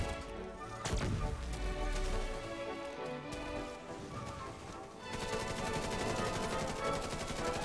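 Automatic weapon fire in The Division 2 during a legendary Roosevelt Island mission, sustained rapid bursts with a heavy report early on, continuous rattling shots filling the scene, no talking.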